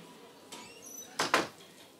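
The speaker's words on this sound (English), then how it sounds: "I need to close my door" A bedroom door being shut indoors, a soft creak followed by two quick close knocks as it latches, in a quiet room with no talking.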